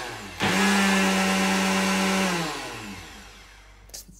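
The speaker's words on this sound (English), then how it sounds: "This is the blender." A KitchenAid Diamond blender motor whirs loudly for about two seconds with a steady high-pitched drone, then spins down and trails off to quiet.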